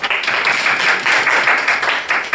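A debate audience gives steady, continuous applause, with thick clapping from many hands throughout the brief moment.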